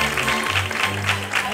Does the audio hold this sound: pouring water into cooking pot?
no